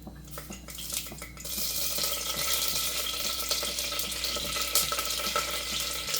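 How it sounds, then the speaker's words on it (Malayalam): Curry leaves hit hot coconut oil in a pan with a sudden burst of loud, steady crackling and sizzling that carries on close-up, with no voices. "ഇതൊന്ന് ചൂടായിട്ട് വരുമ്പോൾ ഇതിലേക്ക് നമുക്കൊരു രണ്ട് തണ്ട് കറിവേപ്പില ഇട്ട് കൊടുക്കാം"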